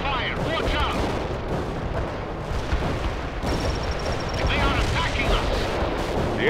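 Gunfire and artillery boom continuously through a World in Conflict battle, with dense overlapping shots and heavy explosions that stay loud the whole time. Brief shouted voices sit under the barrage.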